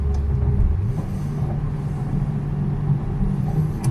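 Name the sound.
car driving in third gear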